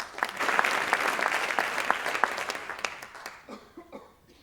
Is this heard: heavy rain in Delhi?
no